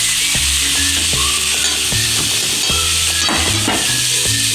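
Tanjaria greens sautéing in plenty of oil with garlic, a loud continuous close sizzle broken by repeated stirring knocks and scrapes against the pan.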